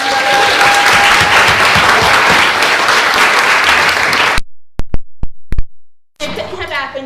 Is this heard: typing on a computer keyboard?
no